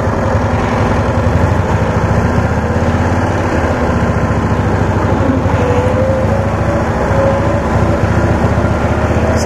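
A Cushman scooter engine runs in first gear, a loud, close, continuous chugging drone that stays steady throughout with no voices over it.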